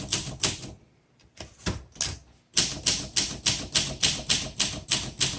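Keys strike on a 1958 Olympia SM3 vintage manual typewriter with crisp, loud clacks: a few scattered taps and a short pause, then a steady, even run of keystrokes at a regular rhythm.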